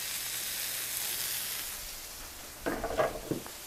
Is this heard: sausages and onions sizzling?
yes